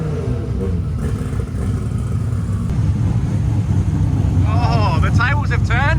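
A 2JZ-powered Holden Commodore drag car idles and rumbles roughly at a no-prep blacktop race event, with voices and crowd chatter rising over the engine noise toward the end.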